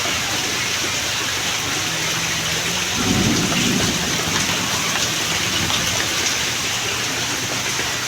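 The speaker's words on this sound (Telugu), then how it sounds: "చూడండి వాన ఎట్లా వస్తుందో." Heavy rain pours steadily in Bangalore, a dense loud hiss throughout, with a deep rumble of thunder swelling midway before fading back into the downpour.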